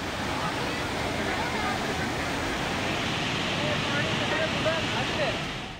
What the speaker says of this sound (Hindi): जहां बारिश के बाद बरसाती नाले बिफर गए और गाड़ियां बहने लगीं